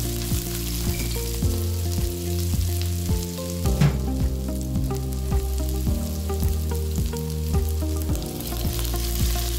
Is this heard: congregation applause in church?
no